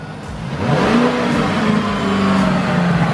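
A wide-body Lamborghini Urus with carbon side skirts and black wheels, set in race mode, revs hard with a loud, steady, close engine roar that rises in pitch and holds for several seconds.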